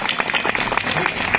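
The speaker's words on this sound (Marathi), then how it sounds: "महाराजांसाठी एकदा जोरदार टाळ्या वाजवायच्या" Brisk audience applause for Ashok Maharaj at a Marathi kirtan, a short burst of many hands clapping, close and lively, without talk over it.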